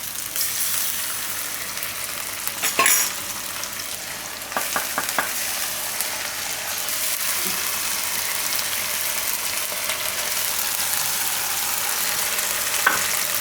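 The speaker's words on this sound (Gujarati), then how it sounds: "હવે એમાં આપણે નાખી દઉં આ આદુ મરચાં ને લસણની પેસ્ટ" Onions frying with ginger, chili and garlic paste keep up a continuous hiss, broken by a few sharp scraping clicks of a spoon against the pan early on.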